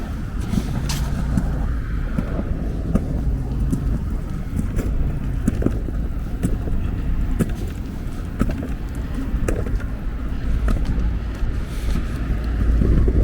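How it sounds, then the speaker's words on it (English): A man wheels a big paper bin along a Brooklyn street on 4th Avenue, a continuous rattling, clattering roll with scattered sharp knocks, steady and fairly close, mixed with gusty wind noise on the microphone. "some guy is wheeling like one of these big pails."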